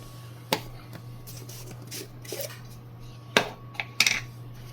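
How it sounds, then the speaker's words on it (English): Dry 500 grit aluminum oxide spooned by tablespoon into a rock tumbler barrel, a few sharp scraping clinks and taps spaced apart over a steady low hum. "And I have this designated for 500 grit, and I'll put 4 of these tablespoon in."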